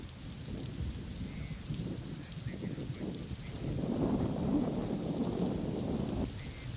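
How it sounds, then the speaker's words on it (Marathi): Heavy, continuous monsoon rain pours over the Chandoli dam catchment in Sangli district, a dense steady hiss of drops hitting surfaces that swells louder midway and carries a faint low rumble beneath. "कशा पद्धतीनं पावसाची रेपरेप ही सुरूच आहे"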